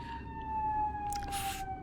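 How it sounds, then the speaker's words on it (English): Emergency sirens wailing in the distance, a sustained steady tone with faint overtones over a low background rumble, alone without talk. "Fucking sirens."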